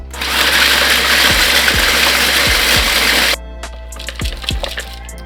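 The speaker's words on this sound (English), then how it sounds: "I'm putting them into the food processor. And I'm going to coarsely chop them." Food processor coarsely chopping bread for breadcrumbs, a loud steady motor roar for about three seconds with chunks thudding against the bowl, then the motor cuts off and pieces knock around as it stops.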